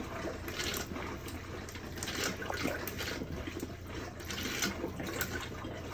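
Pink RV antifreeze runs through the toilet and plumbing of a Rockwood travel trailer being winterized, a continuous rushing, gurgling flow of liquid that swells and eases throughout, close and fairly loud, with no talking.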